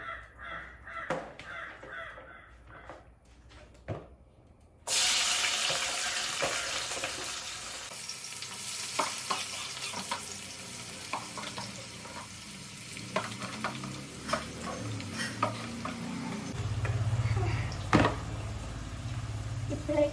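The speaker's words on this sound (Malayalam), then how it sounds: "വെളിച്ചെണ്ണ ചൂടായി ഇനിയിപ്പം ഇതിൻ്റെ അകത്തേക്ക് ഉള്ളിയിടാം" Onions dropped into hot coconut oil set off a sudden loud sizzle partway through that continues steadily, with stirring scrapes and crows cawing outdoors in the background.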